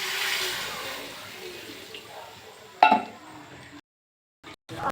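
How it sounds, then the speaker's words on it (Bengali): Water is poured into a pan of spiced chicken curry, a hissing splash that fades over a few seconds, followed by a sharp clink and brief knocks before silence. "এবার আমি জল ঢেলে দেবো"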